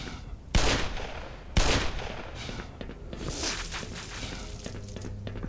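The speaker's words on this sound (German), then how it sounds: "Nehmen wir hier mal den Revolver, das geht schneller." Revolver shots in the video game Black Mesa: two sharp, loud blasts about a second apart, each followed by a brief reverberant tail, then quieter rustling game ambience.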